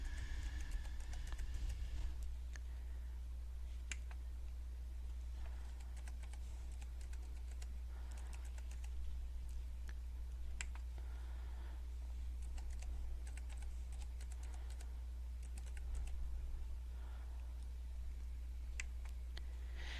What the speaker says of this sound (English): The vocabulary words are typed in and added to the list.